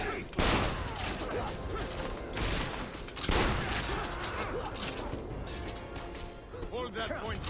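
Rifle volleys crack out in Assassin's Creed Revelations, two sharp bursts a few seconds apart over a busy battle din, with people talking throughout.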